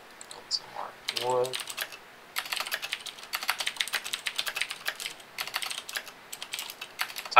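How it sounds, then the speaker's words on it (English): Typing on a computer keyboard during a Terraria livestream: a quick run of close, crisp key clicks in uneven bursts with brief pauses, plus a short vocal sound near the start. "Typing to someone."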